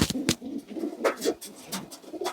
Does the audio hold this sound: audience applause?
no